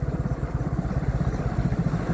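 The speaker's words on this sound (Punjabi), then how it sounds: "ਮੋਟਰਸਾਈਕਲ ਬਾਹਰ ਲਾ ਦਈਏ" A motorcycle engine idles steadily at close range, a low chugging putter that holds an even rhythm throughout.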